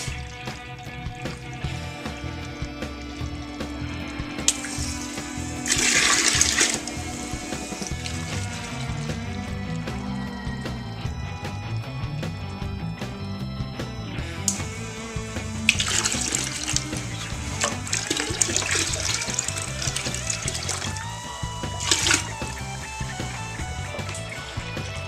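Hot water splashes and pours into a home distilling wash, intermittent gushing bursts over a steady trickling, bubbling background with clinks and small knocks, fairly close and moderately loud.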